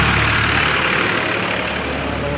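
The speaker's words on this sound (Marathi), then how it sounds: "तुम्ही बघू शकता हा ट्रॅक्टर किती स्पीडनं आला आहे" A tractor speeding along a road in front of a high school, its engine a loud, steady rumbling drone close by that fades slightly toward the end.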